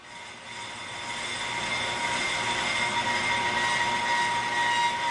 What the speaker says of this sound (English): On this side, you can see the cutting bit touch the rotor as well as hear it.